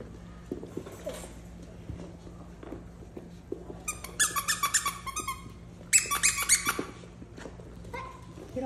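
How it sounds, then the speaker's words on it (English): Mini goldendoodle puppies at play with squeaky toys, giving two loud bursts of rapid, repeated squeaks over quieter shuffling, pawing and faint movement noise. "and some squeaky toys"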